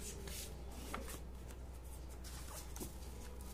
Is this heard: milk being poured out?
no